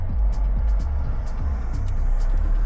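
Steady rumble of a car rolling down the road with its back windows cracked slightly open, low wind and tyre roar filling the cabin continuously with faint rhythmic thumps.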